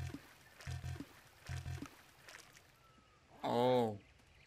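Water pours briefly into a bottle being filled in the video game How To Survive, a single loud rising gurgle near the end, after a few short muffled game sounds.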